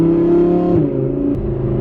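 Audi R8 V10 with a straight-piped exhaust, a loud, close engine holding a steady rev that drops and settles lower partway through, heard alone.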